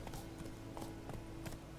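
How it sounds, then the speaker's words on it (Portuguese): Horse hooves clip-clopping in a steady trot in the video game The Witcher 3, a continuous rhythmic beat under dense background game ambience. "Muito legal esse ritmo que o cavalo vai, tá ligado? Plac, plac, plac, plac,"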